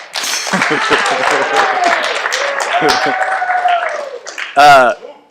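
An audience claps at a high school hockey banquet, with voices and cheering mixed through the steady applause and a short louder burst near the end.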